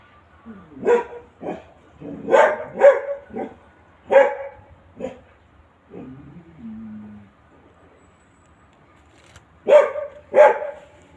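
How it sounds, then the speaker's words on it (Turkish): A dog barks in short clusters, sharp and nearby, with pauses between bursts and a brief whimper midway before two final barks. "Size mi havladı Johnny?"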